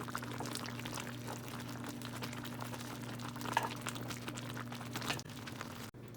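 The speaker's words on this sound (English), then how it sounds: "we're gonna let this boil for like about another 2-3 minutes" Green chili sauce for chilaquiles bubbles in a pan, a steady, fairly quiet simmer with a low hum underneath and a brief clink near the end.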